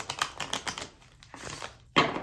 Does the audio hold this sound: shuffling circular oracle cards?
yes